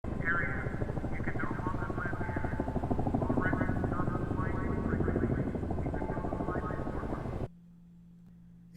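A helicopter's steady, throbbing rotor roar runs loud and continuous for several seconds, then cuts off abruptly into near quiet.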